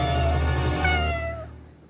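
A kitten gives a single drawn-out meow, loud and near, rising then trailing away into quiet.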